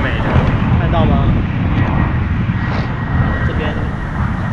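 An airplane taking off or landing near a tennis court in Taipei gives a broad, steady roar, mixed with wind noise on the microphone, fairly loud throughout.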